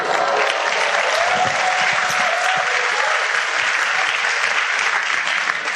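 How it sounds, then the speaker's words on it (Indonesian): An audience at an Indonesian business seminar gives dense, sustained applause, with many hands clapping steadily at full strength for the whole stretch. "aplaus dulu"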